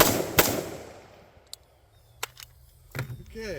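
Rifle fired at targets on a shooting evaluation course, with one sharp loud report near the start followed by a few quieter cracks and knocks spaced out, and brief voices toward the end.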